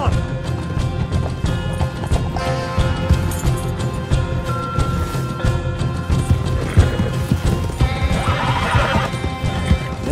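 A horse in the video game Red Dead Redemption 2 neighs and its hooves clip-clop rapidly at a gallop, with busy game sounds and someone talking over it.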